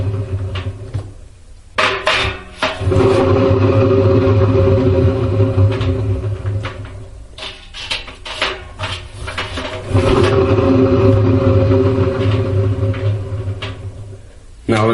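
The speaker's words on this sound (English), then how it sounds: "this is spinning the drum by hand" A 2008 Hotpoint washing machine with a noise problem, its drum turned by hand: loud, close rumbling and knocking thuds in uneven bursts, with clunks and a low droning resonance swelling and fading several times.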